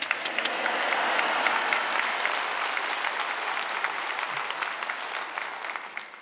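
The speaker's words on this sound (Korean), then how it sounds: "하나님께 감사와 영광의 박수 올려드립니다." Church congregation applauding to welcome a pastor to the pulpit at a Wednesday worship service, a dense wash of clapping that swells early and then slowly tapers off.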